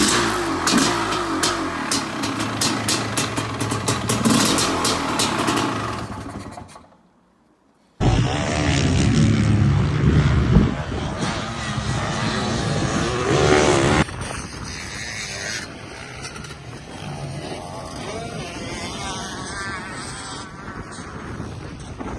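A 500 CR motorcycle engine on a test ride, a loud buzzing two-stroke roar that revs hard, cuts out to silence for about a second, then returns and carries on at a steadier, somewhat more distant drone.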